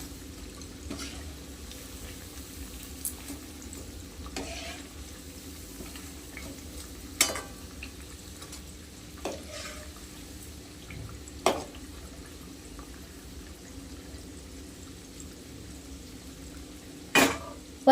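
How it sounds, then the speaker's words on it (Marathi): Sabudana vada, pressed patties of sago, frying in oil over medium heat, giving a steady soft sizzle with occasional sharper crackles and spatters, close by and without talk. "असे दाबून मिडियम गॅसवर आता आपण तळून घेऊया त्याला"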